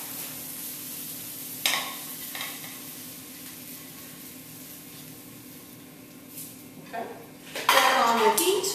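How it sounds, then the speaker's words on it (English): Utensils clatter and scrape against a sauté pan as green pepper and onion are lifted out, with a faint background sizzle and a louder burst of clinking near the end. "we're going to pull it out of the saute pan and give the eggplant a chance to cook."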